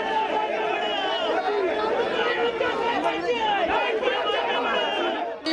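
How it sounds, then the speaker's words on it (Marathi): A crowd of party workers shouts slogans at a rally during an election-result face-off in Navi Mumbai, a dense, continuous roar of many voices near and loud, with no pauses. "जोरदार या ठिकाणी घोषणाबाजी केली जात आहे."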